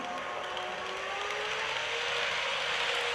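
Running sound of a model ICE BR 407 Velaro D train: a steady, quiet electric whine gliding slightly upward over a broad hiss, continuous and even throughout.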